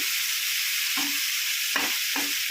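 Snake gourd frying in oil tempered with panch phoron, a steady close hiss with a few soft spatula scrapes and stirs breaking through, no voices.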